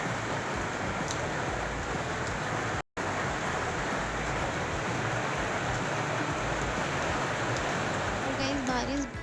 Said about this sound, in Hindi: बारिश सडनली बहुत ज़्यादा हो गया।